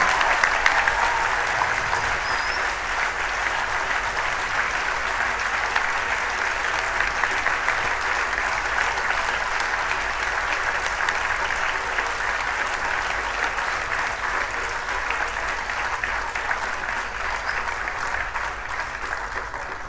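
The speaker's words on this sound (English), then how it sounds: "I request another round of big applause for this wonderful artist" An audience at the Shantanand Festival of Arts 2017 applauds the Anchor Ensemble, with sustained, dense clapping from a crowd that holds steady for about twenty seconds and slowly tapers.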